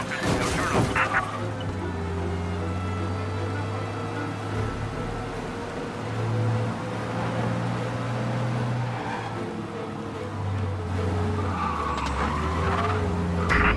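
Car engine in the video game Mafia: Definitive Edition droning at speed with tire skids and squeals, a loud steady motor hum throughout and a sharp impact at the start.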